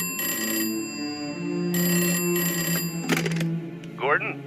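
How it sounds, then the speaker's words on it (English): A telephone rings in an animated Batman: Caped Crusader episode, sounding as repeated bursts of an electronic bell with pauses between them, followed by a brief knock and a short voice at the end. "And just in that moment, of course, the phone rings, and Gordon gets a call from Mayor Jessup."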